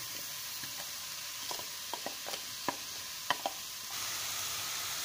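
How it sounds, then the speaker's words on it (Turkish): Chopped onions fry in hot oil in a pan with a steady, soft sizzling hiss, punctuated by a few light clicks and stirring taps; the sound swells slightly near the end. "Evet, tavaya önce yağı koyuyoruz. Daha sonra üzerine soğanı aktarıyoruz."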